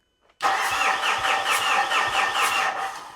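Mitsubishi Fuso FG truck engine cranking on a starter: a steady, loud, close whirring crank with a rhythmic pulsing that runs for about three seconds without firing into a clear idle.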